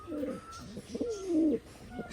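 Pigeons, two pairs kept in a loft, coo softly nearby in a short run of low, rounded, rising and falling calls.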